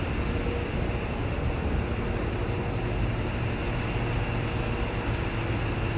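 Steady broadband rumble of a train in a rail yard in Chelsea, New York City, a continuous rolling drone with faint wheel squeal, heard alone without voices.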